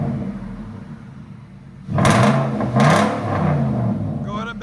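A car with an X-pipe exhaust idles, then its engine swells into two louder revving pushes as it backs out. The rumble stays close and fairly loud, with faint background talk at the end.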